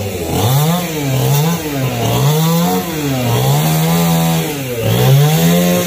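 A chainsaw cuts through a hollow branch of a tall Dầu tree nearby, its loud engine rising and dipping in repeated cycles as the blade bites into the wood.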